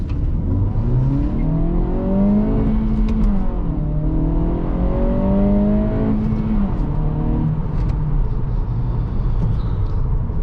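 An Acura Integra A-Spec in sport mode accelerates hard from a launch, its engine note climbing steadily through the gears with brief drops at each shift, heard from inside the car with a steady low road rumble.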